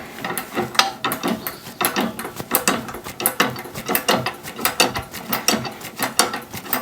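The hand pump lever of an SGS 75-tonne hydraulic press is worked slowly, producing a steady series of clicking, ratcheting mechanical strokes, close and moderately loud with no talk.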